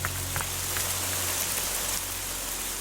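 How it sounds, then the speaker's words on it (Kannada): Heavy rain pours down in a steady, loud, continuous wash, with scattered drops pattering on nearby surfaces and no voices over it. "ಮಳೆ ಜೋರಾಗಿ ಬರಂಗಿದೆ"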